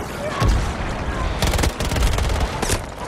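DMR and SMG gunfire clash in Battlefield 2042, loud close bursts of rapid shots in clusters, with a sharp burst near the start and a dense rattling volley later.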